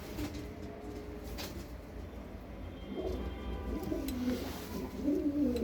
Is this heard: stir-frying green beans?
no